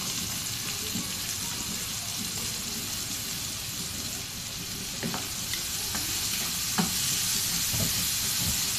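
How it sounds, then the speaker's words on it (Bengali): Onions frying in a small amount of oil in a karahi wok for a pointed gourd do pyaza: a close, steady sizzle with occasional light clicks from stirring. "এখানে আমি কড়াই থেকে অনেকখানি তেল কমিয়ে নিয়েছি। এখন যে তেল আছে এটাতে দিয়ে দিচ্ছি পেঁয়াজ।"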